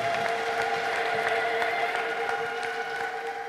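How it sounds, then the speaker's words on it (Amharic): A church congregation clapping and ululating in praise, a dense, sustained wash of applause with high, steady trilling tones running through it. "ለጌታ ከፍ ያለ እልልታና ጭብጨባ አምጡ"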